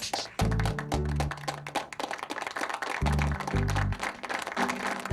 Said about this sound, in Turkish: Gülben için bir alkış mı?